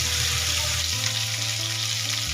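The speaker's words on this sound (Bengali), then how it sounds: "দেখুন সুন্দর একটা কালার এসে গেছে। এইভাবে ভেজে নিতে হবে।" Marinated chicken leg pieces frying in oil in a pan, a steady close sizzle with a dense, continuous crackle throughout and no talk.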